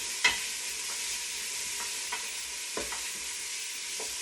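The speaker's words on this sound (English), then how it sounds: "There are very few things to compare with the smell of onions and garlic as they're being" Onions and garlic sautéing in a pan give a continuous close sizzle, broken by a few soft utensil taps and stirring scrapes.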